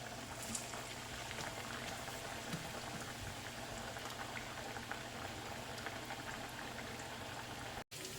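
Corn vada dumplings fry in hot oil over a medium gas flame, giving a continuous, even bubbling and sizzling that stays close and steady throughout, with no talking.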